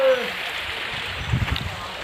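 A waterfall at a picnic spot in Bhutan pours in a continuous broad, rushing wash of sound, close and steady, as a person talks over it.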